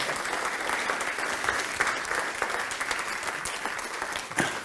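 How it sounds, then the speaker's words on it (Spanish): A hall audience claps steadily for band members marking 100 years in the band, a dense sustained wash of applause from many hands throughout with no voices over it. "por favor un aplauso para toda esta gente que ha hecho 100 años en la banda"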